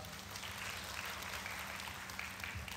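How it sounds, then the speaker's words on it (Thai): A church congregation claps in thanks to God, a soft, distant, even patter of many hands that carries on throughout without a voice over it. "ปรบมือขอบคุณพระเจ้าหน่อยครับพี่น้อง"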